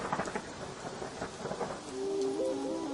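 Thunderstorm with steady rain pattering on a surface and low rolling thunder, dense and continuous, with a rising tonal hum near the end; no voices.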